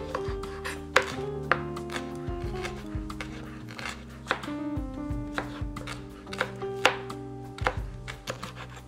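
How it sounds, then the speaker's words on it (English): A kitchen knife slices chili peppers into very thin rounds on a cutting board, producing a steady series of sharp, close chopping taps with a brisk, slightly uneven rhythm. "I'm going to cut these in very thin little slices"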